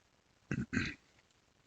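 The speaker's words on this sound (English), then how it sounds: "Sorry, I had to clear my throat." A single throat clear made of two short, rough bursts close to the microphone, with near silence before and after.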